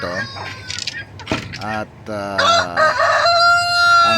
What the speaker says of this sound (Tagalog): May 3 pong kwarto ng mga manok dito.